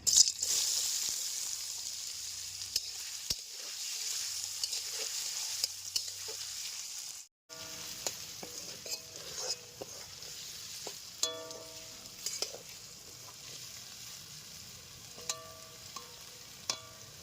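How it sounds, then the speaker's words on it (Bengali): Potatoes sizzle steadily as they fry in a pan, a continuous close hiss broken by a brief cut, then scraping stir strokes and small clinks over the frying, with no talking. "এবার আলুগুলো ভেজে নেব।"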